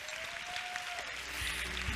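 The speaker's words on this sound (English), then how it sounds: "let's give a round of applause to Mosgan, Derek, Neetha, Lloyd, and Theodore" Audience applause for panelists at an HR symposium, a steady wash of clapping with a sustained tone running beneath it and the clapping swelling slightly toward the end.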